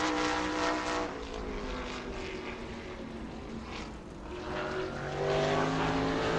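A race car engine on a qualifying lap at New Smyrna drones loudly with steady, rising whining harmonics. The pitch dips and swells as the car circles the track, with no voices.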